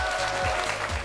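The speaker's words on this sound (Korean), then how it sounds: "오늘의 강연자 두 분을 박수로 환영해 주십시오." An audience at a science lecture gives a short burst of applause, many hands clapping together, fairly close and steady, with faint voices underneath.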